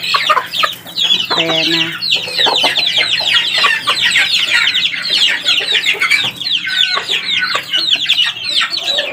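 Chicks and hens cluck busily while pecking at boiled egg, a dense, close flock chatter that runs without a break, with a person speaking briefly over it.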